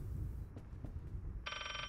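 A telephone rings in the horror video game Layers of Fear: a short, bright electronic ring arrives near the end after a stretch of low, rumbling ambience.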